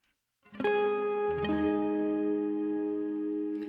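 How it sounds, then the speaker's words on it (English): Electric guitar played through a Pod Express effects unit with a space reverb setting: a strummed chord rings out, a second chord follows, and the notes sustain in a long, smooth, shimmering wash that hangs steadily without decaying, with no voices. "Let's try space reverb."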